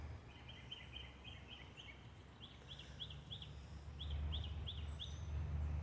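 Songbird calling outdoors on a quiet day: a series of short, bright repeated chirps in quick bursts, moderately distant over a low steady background rumble, with no talk.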